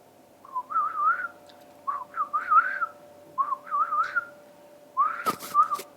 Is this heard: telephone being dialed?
no